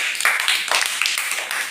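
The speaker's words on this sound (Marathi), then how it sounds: "जोरात पुन्हा टाळ्या वाजवा" Anganwadi children in a drawing lesson clap together at the teacher's urging, a dense, steady patter that is moderately loud and lasts throughout.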